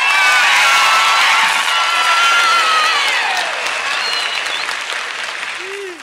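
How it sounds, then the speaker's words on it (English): An audience at the Grand Ole Opry in 1960 breaks into loud, sustained applause with some cheering to welcome Johnny Cash onstage, the clapping fading slightly over six seconds. "let's welcome him back to the opera with a big hand, Johnny Cash"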